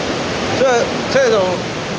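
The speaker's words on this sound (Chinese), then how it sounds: "这是很少见的洞中瀑布啊，洞中瀑布。" A rare waterfall inside a cave near Interlaken, Switzerland, roars loudly and steadily, with a brief exclaiming voice rising twice over the rushing water.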